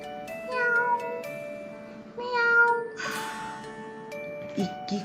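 A cat meows several times up close, long drawn-out cries with wavering pitch, one breaking into a harsher, noisier yowl.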